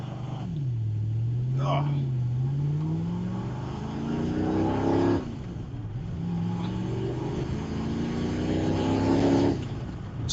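A Ford GT40 race car pulls away at Dunton. Its engine revs climb through several loud, rising sweeps with gear changes between them, close by, and a voice briefly exclaims near the start.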